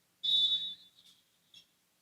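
A referee's whistle at a Paine College vs. Baptist University of Florida college volleyball match gives one sharp, clear blast to signal the serve, followed by brief faint gym echoes.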